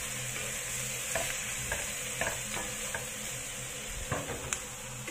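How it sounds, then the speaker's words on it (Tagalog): A spatula stirs scrambled eggs with bitter gourd in a hot pan, giving steady close sizzling and frying with repeated scraping knocks against the pan surface throughout. "Halo-haloin lang natin bago natin ilagay ang sauce."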